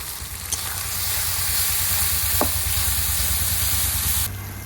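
Spices with chilli powder, turmeric and salt fry in oil, making a loud, continuous close-up hiss and sizzle with a low hum beneath, one brief clink, and an abrupt drop near the end.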